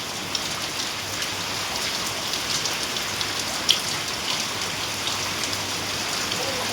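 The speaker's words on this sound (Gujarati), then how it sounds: "અને ભાઈ વરસાદ પણ સારો એવો પડી ગયો છે" Steady, dense rain pours down, a continuous hiss with scattered drop impacts close by and one brief sharp tap partway through, no voices.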